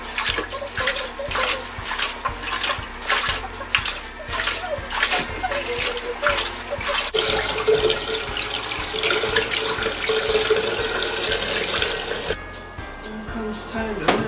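Tap water runs steadily into a basin or wastebasket while clothes are washed by hand, a continuous splashing flow with some sloshing and a rhythmic low thumping at first, and the pour shifting in tone toward the end.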